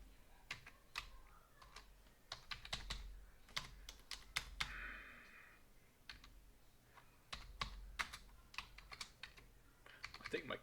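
Rapid, uneven bursts of computer keyboard typing, sharp close clicks clustered in quick runs with short pauses between, over a quiet room background.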